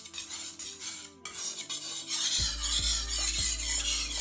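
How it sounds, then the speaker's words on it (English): A kitchen knife blade is ground against a sharpening stone in repeated rasping strokes that are loud and close, with a low hum joining partway through and no talking. "you kind of want to grind away to get that knife sharp."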